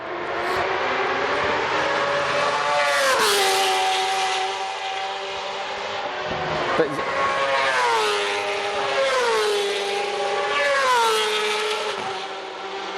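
Racing motorbikes in a British Superbike round tear down the main straight at Brands Hatch, loud and close, with several screaming passes whose engine pitch sweeps up and falls away over a constant roar.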